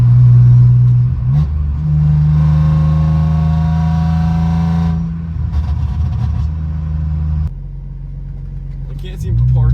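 BMW E46 with a Turner Motorsports valved catback exhaust, valve open, cruising around 45 mph: a loud, steady low exhaust drone with a brief rise in revs partway through, then easing off, close and dominant.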